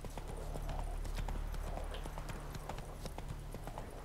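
Horse hooves clip-clopping steadily in the video game The Witcher 3, a continuous rhythmic trot over low ambient rumble, close and fairly quiet.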